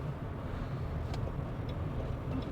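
A Mahindra XEV9e electric SUV speeds along a highway, a steady wash of road and wind noise with tire roar heard from inside the cabin, continuous and fairly loud throughout.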